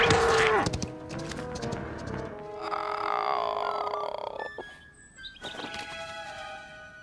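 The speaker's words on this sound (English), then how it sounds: "that was the largest cow I ever saw. Have you ever heard such a roar?" A loud, drawn-out bellowing cow cry in a cartoon, low and harmonic, with shorter moans and brief squeaky tones following near the end.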